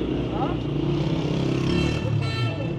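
Motorbike engines rumble and rev past on a busy street by Delhi Gate in the old city, a close, continuous traffic drone with someone talking over it.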